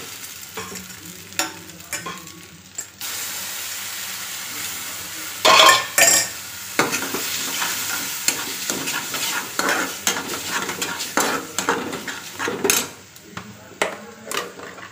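Maggi noodles with egg stirred and cooked in a pan, a steady sizzle broken by repeated scraping and clinking of a spoon against the pan, with brief louder clatters midway; no talking.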